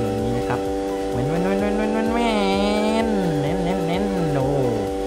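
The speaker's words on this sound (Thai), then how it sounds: "เสียงเลมโบนี่ มันดังดีจริง ๆ นะ" Lamborghini engine in the game Free Fire, a strong buzzing tone that climbs, holds high and wavers as the car revs and shifts, loud and close with no clear talk.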